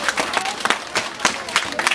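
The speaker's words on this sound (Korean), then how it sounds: "퇴장하는 친구들에게 다시 한번 여러분 뜨거운 박수 부탁드리겠습니다" An audience applauds departing performers at an outdoor event in Busan, a steady patter of hand claps from a modest crowd, fairly close and unbroken.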